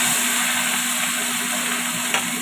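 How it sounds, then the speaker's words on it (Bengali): Fish frying in hot oil in a kadai pan, a steady, loud, dense sizzle that holds evenly throughout with one small clatter near the end. "একদিকটা ভালোভাবে ভাজা হয়ে গেছে, ভাজা হতে থাকুন"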